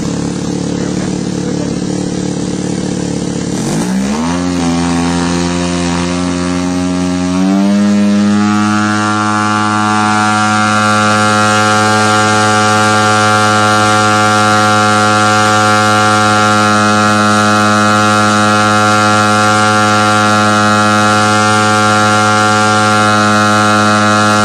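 Small engine held at high RPM during carburetor tuning, set a quarter turn lean on the high-speed needle: a loud, steady buzzing whine that climbs in pitch early on, then holds a constant high drone, close up with no talking.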